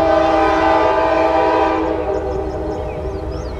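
A loud train horn blares steadily, a sustained chord that holds for a few seconds and then eases off slightly, with faint rail noise underneath.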